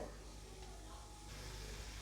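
Chana dal sizzling in hot coconut oil while rava uppumavu is being made, giving a steady soft frying hiss with faint stirring throughout, close and fairly quiet.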